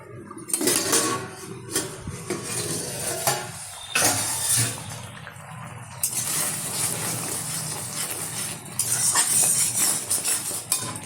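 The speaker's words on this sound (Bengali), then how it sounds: "ঢাকনাটা তুলে দিচ্ছি।" A pot lid comes off a pan of oats masala cooking on high heat, followed by close clattering and scraping of a spoon stirring against the pot, with some sizzle and bursts of louder metal clinks throughout.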